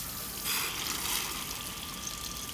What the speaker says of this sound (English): Turn suction on and suction water for at least 30 seconds.